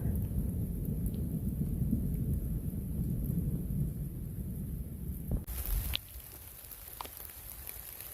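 Rain and rolling thunder from a thunderstorm on a mountaintop, with a steady heavy rumble and hiss for most of the stretch, then a sharp crack before it drops to lighter rain and distant sky noise.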